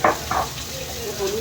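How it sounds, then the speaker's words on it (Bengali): Potato and papaya pieces frying in oil in a pan, a close sizzle with a couple of brief louder bursts of stirring or scraping near the start, then a steadier hiss. "আর লাল করে ভাজবো আলু আর পেঁপেটা"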